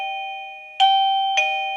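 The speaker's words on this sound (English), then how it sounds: "Okay, I mean, that's a doorbell" A wireless doorbell, a cheap Chinese unit, rings a steady sustained chime tone, struck again twice in quick succession, loud and close with no voices.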